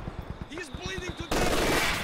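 An enemy machine gun firing in Company of Heroes 2, with a short stuttering rattle under a game voice line, then a louder dense burst of fire.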